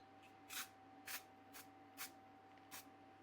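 Five short hissing bursts from a brown spray can onto an arm burn moulage on a manikin, evenly spaced about half a second apart, close and quiet over a faint steady hum.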